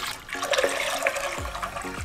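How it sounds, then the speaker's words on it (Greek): Two litres of water runs and splashes steadily into a cooking pot nearby, a continuous liquid rush with small gurgling shifts. "Σε μια κατσαρόλα προσθέτουμε 2 λίτρα νερό"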